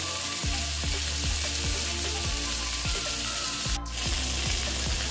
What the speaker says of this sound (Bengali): এই জন্য আমি আস্তে আস্তে করে ভেজে নেব পটলটা।